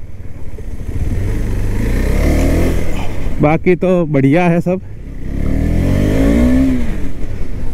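A 2021 KTM RC 200 motorcycle rides on a race track in Ahmedabad, its engine droning loudly and revving up with rising pitch, while the rider talks briefly over the noise of the bike.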